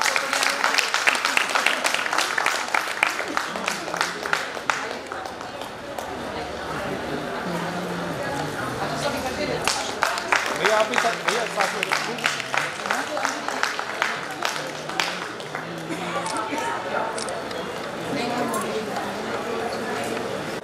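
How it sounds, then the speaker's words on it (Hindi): Audience applause at a Founders Day welcome ceremony, dense clapping with chatter throughout, while people talk nearby and a voice calls out over the crowd. "जोरदार तालियां दे दो."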